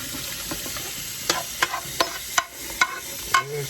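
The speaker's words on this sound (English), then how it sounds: "That's how you cook ground beef, ladies and gentlemen." Ground beef frying in a pan for a Chalupa Supreme, a low sizzle broken by sharp irregular scrapes and clacks of a utensil stirring it, close and growing busier toward the end.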